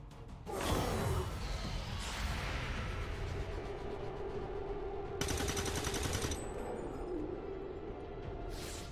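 Soldiers lay down covering fire in the video game XCOM 2: several bursts of rapid gunfire with sharp cracks and rattling volleys, separated by short lulls over a low rumble.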